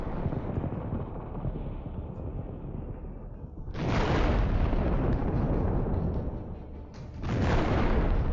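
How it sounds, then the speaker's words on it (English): Armored personnel carriers exploding after anti-tank missile strikes, a sustained roaring rumble of blasts and burning that swells twice into louder broadband surges, heavy and continuous with no voices. "The stopped APCs detonate."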